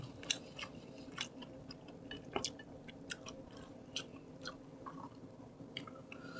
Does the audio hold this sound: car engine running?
no